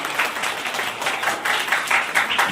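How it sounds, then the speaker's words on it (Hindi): An audience at a school farewell and honour ceremony gives loud, continuous applause, many hands clapping in a brisk, even rhythm for the whole stretch with no speech. "जोरदार तालियों के साथ"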